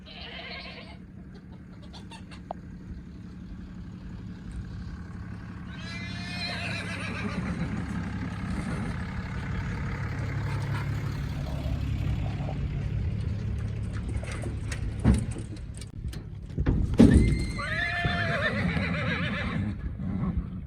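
Horses, including two fillies, whinny and neigh a few times, loud and fairly close, over a steady low rumble and some shuffling during unloading.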